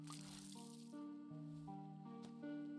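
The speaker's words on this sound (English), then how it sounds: "we'll just water it to get some more seeds" Watering a plant in the video game Wanderstop, with soft dripping and splashing water set against steady sustained musical tones, faint and gentle throughout.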